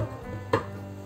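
A lid is set onto a pot of chicken ragu sauce, giving a single short metallic clink up close over a faint background hum, with no speech.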